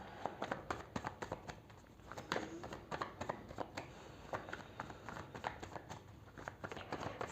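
Tarot cards shuffled by hand make quick, close riffling and flicking sounds in a steady patter, with a few sharper slaps as cards drop, fairly quiet throughout.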